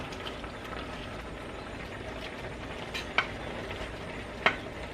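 Drained penne pasta is tipped into a pan of Tuscan chicken sauce and stirred, giving a soft continuous sizzle and wet stirring with two brief sharp clinks of a utensil against the pan.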